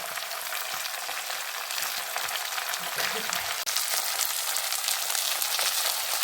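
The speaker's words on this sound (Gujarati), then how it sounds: "ભાજી છે ફ્રાય ચાલુ થઈ ગઈ છે" Leafy bhaji greens fry in a pan with a dense, steady hiss of oil at moderate distance, one brief knock partway through and faint background noise.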